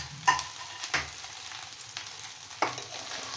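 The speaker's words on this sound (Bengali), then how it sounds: "ধনে পাতা কুচি দিয়ে দেব, আবার নেড়ে দেব" Chopped coriander gets stirred into soyabean rice in a pan, producing a low simmering hiss punctuated by a few distinct scraping strokes of a spoon, with no voices.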